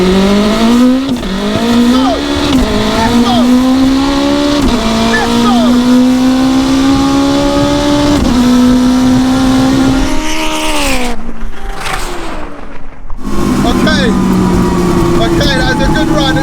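A 900HP Audi Quattro and a 770HP all-wheel-drive Honda Integra drag race, engines screaming loud and close with rising revs and repeated gear shifts, a brief drop-off near the end before the roar resumes.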